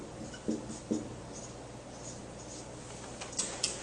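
A pen writes on a biology diagram, a faint close scratching that runs steadily with a few small taps and strokes standing out, with no talking.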